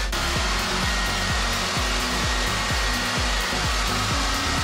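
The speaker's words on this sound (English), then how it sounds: "Ping pong ball and 110 mile an hour wind with the Black & Decker" A Black & Decker blower roars in a loud, steady rush of air at 110 mph, aimed at a ping pong ball. A rhythmic fluttering pulse rides under the blast, heard close with no talk.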